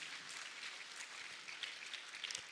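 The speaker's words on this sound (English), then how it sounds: "please give a round of applause to all our speakers" Faint, steady applause from an audience at an arts awards ceremony, a dense hiss of many hands clapping at a distance, level throughout with a few slightly sharper claps near the end.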